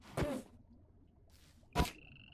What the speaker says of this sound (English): I can hear the frog as well, just ribbiting away